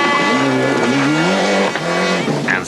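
Rally car racing at the 1995 Rally 24 Heures Ypres in Belgium, a loud close engine note rising and falling through gear changes as the car races past, with a brief tyre scrub near the end.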